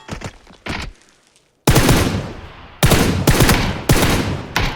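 Loud, close gunfire from a video game match, with quick bursts of shots, a short quiet gap, then several heavy sustained volleys in rapid succession.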